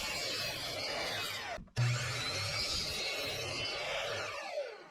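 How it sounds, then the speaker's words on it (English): Wood pieces cut on a miter saw for a hot cocoa caddy, a steady whining, rasping cut running for several seconds with a brief break, loud and close, with no talking. "we can head back over to the miter saw"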